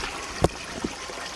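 Water trickles faintly at a spot where it leaks near bamboo, with two small distinct drips landing about half a second apart over a quiet background.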